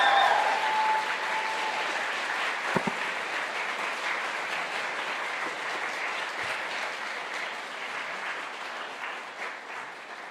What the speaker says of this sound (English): give a huge round of applause to the runners-up from Auckland Blue